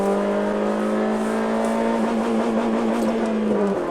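Inside a Honda Civic with a naturally aspirated engine and opened-up exhaust, the engine holds a strong, steady high-rev tone that climbs slightly, then eases off just before the end.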